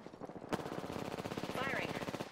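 Automatic weapon fire in the Apex Legends battle royale game, a sharp burst followed by steady rapid rattling shots, with a player's voice talking over the gunfire.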